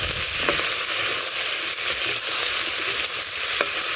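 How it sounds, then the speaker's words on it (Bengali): Tomato, carrot and eggplant pieces fry in a hot pan with a loud, continuous sizzle and hiss, punctuated by a few faint stirring knocks, close up with no voices. "সব সবজিগুলো দিয়ে দিই এখানে আছে টমেটো গাজর বেগুন"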